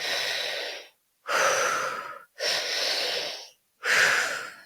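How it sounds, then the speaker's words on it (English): Tri-active breathwork: four loud, forceful breath cycles drawn into the belly and chest and pushed out through the mouth, each rushing breath followed by a short silent gap, close and alone. "There's one called the tri-active breath"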